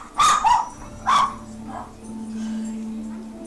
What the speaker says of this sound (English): That's a Tomb Raider bark.